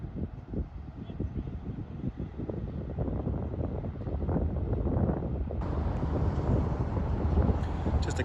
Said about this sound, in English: As you can hear, there's plenty of traffic crossing over the bridge